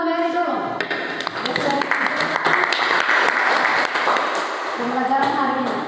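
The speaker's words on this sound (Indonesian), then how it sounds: "tepuk tangan buat Mary dulu" A classroom of students gives sustained applause for a classmate, with dense clapping lasting several seconds, speech heard at the start and again at the end.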